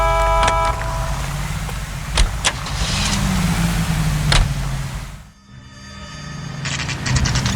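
A car driven in the video game L.A. Noire, its steady engine hum rising and falling with sharp knocks and clunks scattered throughout, then a brief lull before the engine swells again.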